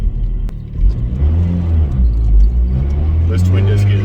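A built Mazdaspeed turbo car with a twin-disc clutch sends a deep, rumbling engine note through the cabin, swelling and easing over a few seconds with faint turbo whooshes near the end, while a person talks over it.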